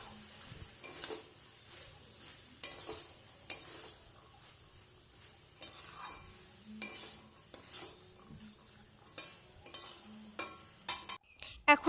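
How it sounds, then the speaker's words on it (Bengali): Corn fry seasoned with Maggi masala is stirred in a pan, with repeated scraping spoon strokes and clinks over a soft, steady sizzle and no talking. "ম্যাগি মশলা দিয়ে ভালোভাবে নেড়েচেড়ে হালকা অল্প জল দিয়ে আবারও ঢেকে দেব"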